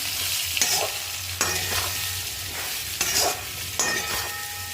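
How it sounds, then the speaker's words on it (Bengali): Potato, radish, ginger and green chili fry with salt and turmeric under a steady sizzle. Bursts of stirring and scraping recur about every second, and no one speaks. "আদা, কাঁচা লঙ্কা, আলু আর মূলোটা আমার ভাজা ভাজা হয়ে গেছে।"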